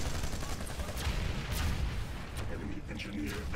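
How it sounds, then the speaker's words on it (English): Rocket impacts on a building in a squad-based military video game, heard as rumbling booms and sharp bursts of gunfire-like blasts under low, muffled background chatter. "Taking rocket hits in the building."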